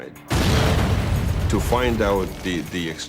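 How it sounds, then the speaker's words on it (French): A dynamite charge detonated in a test goes off with a sudden loud boom and a long rumbling roar, and voices talk over the tail of the blast. "Ils ont mené une série d'expériences avec la dynamite"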